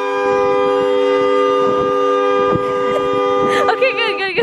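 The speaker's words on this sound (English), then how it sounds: "Honk it for as long as you can." A car horn blares in one long continuous honk, loud and close, with a voice rising over it toward the end.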